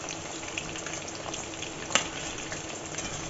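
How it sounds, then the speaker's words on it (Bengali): Chicken pakora pieces frying in hot oil, a steady close sizzle with faint bubbling and one brief clink partway through. "তো এইভাবে আমি সমস্তটা ভেজে নেব।"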